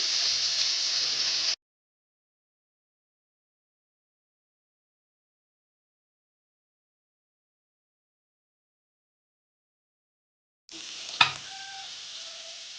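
Tomato sizzles with cooked onions in a pan for a potato palya, heard as a short burst of hissing frying at the start and again near the end, with a sharp metallic clank, separated by a long silence.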